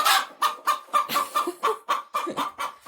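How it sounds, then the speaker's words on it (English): Two broody hens cluck in a rapid run of about a dozen sharp, close calls while fighting over a nest, loud and alone without any talk. "we have two broody hens suddenly, and they're fighting over the nest"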